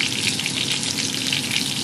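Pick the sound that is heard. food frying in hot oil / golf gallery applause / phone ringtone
food frying in hot oil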